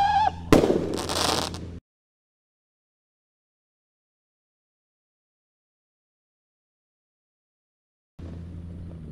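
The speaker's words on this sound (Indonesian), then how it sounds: "Kita nyalakan roket Roman Candle Pyro Roketer yang warna merah ya." A red Roman Candle firework rocket ignites with a short fizzing burst and whoosh up close, then falls silent for several seconds before a faint rumble returns.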